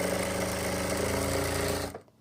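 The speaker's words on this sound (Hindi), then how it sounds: "फोल्ड करने के बाद हम बिल्कुल यहाँ से सिलाई लगाएंगे" A sewing machine runs continuously, stitching a folded trouser belt on a wrap palazzo pant, a loud close mechanical whir with a steady stitching buzz that stops abruptly near the end.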